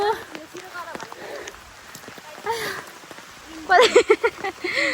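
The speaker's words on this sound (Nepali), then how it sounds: "पानी पर्यो" Steady rain patters on surfaces and umbrellas all around at a fair while people talk and walk nearby.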